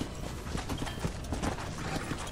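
Horse hooves clip-clop in a steady rhythm through Red Dead Redemption game audio, close and moderately loud over a busy ambient bed.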